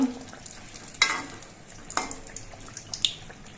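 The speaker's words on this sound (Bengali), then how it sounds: "মালপোয়াটা আমি একটু লাল করে কড়া করেই ভাজব" Malpua, a sweet Bengali pancake, frying in hot oil in a karai: a continuous bubbling sizzle close by, broken by a few sharp scraping stirs of a ladle about once a second, with no voices.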